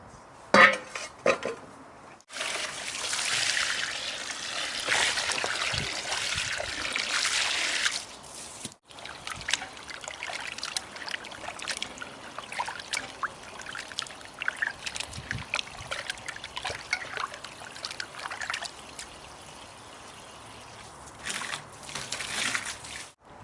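About three kilograms of raw chicken is washed in a Kerala village kitchen: water trickles and drips while metal pots and utensils clatter and scrape in irregular bursts close to the microphone.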